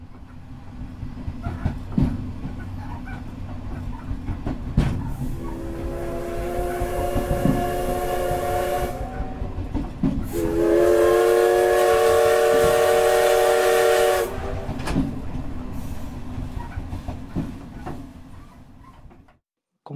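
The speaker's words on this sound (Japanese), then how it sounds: "そもそもこの汽笛ってなんで鳴らしてるんでしょうか。" The SL Taiju steam locomotive's whistle sounds twice, the second blast longer and louder, over the steady rumble and clatter of the passing train on its way to Kinugawa Onsen.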